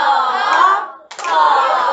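Hands clap out a steady beat in a music rhythm lesson, with close, loud claps that run together into a dense sound and break off briefly in the middle.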